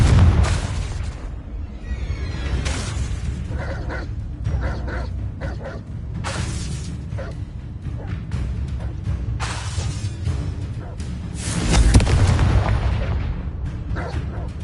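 Confringo explosive spells blasting in Hogwarts Legacy video game, several loud booming bursts with crackling bright tails at irregular intervals, the strongest near the end, over a rumbling background with no clear talk.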